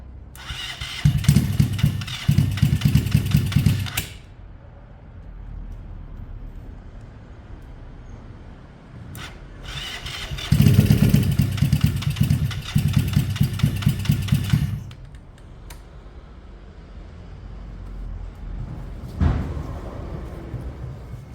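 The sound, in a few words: Yamaha Fazer motorcycle engine start-up attempt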